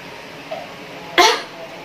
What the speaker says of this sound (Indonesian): Di sini saya akan melakukan tindakan batuk efektif.